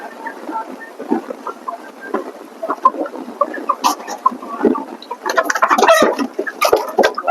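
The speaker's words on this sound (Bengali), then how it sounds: "আমি প্রথমে দেখেন মুরগি ধরে জবাই করে নেব" Farm-raised desi chickens cluck and squawk in a lively, irregular burst close by, growing louder and more agitated toward the end as they are caught before slaughter, with no talk over them.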